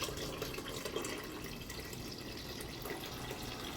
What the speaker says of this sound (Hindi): हम इसमें पानी डाल देंगे।